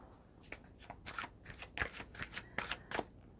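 A tarot card deck is shuffled by hand, giving a quick run of soft riffling bursts, close and quiet, repeating about a dozen times in a few seconds.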